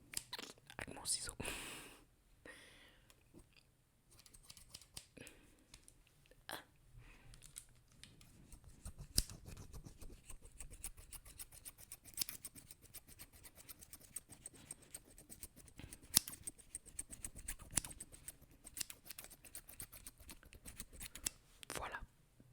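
Repeated crisp snips of scissors cutting, close by, with soft whispering and rustling in between.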